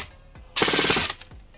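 A T238 airsoft gun with a 28K brushless motor on an 11.1V LiPo fires one rapid full-auto burst of about half a second, loud and close, framed by faint mechanical clicks before and after.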